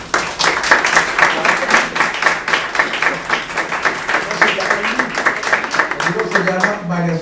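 Audience applause for a professor at an academic book presentation, dense clapping filling the room throughout, with a voice emerging near the end as the applause fades.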